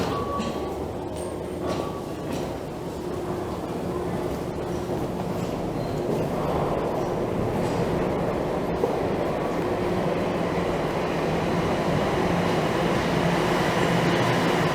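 A Toronto train rumbles steadily along the rails with a continuous roar and faint squeals and clatter, fairly distant and even throughout.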